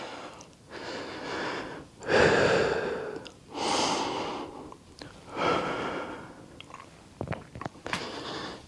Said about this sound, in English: let me just regain my breath